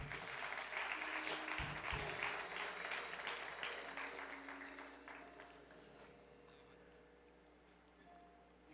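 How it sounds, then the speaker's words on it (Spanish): A church congregation gives a loud, sustained burst of clapping that fades gradually over several seconds into a quiet room hum. "Dale un fuerte aplauso a Jesús."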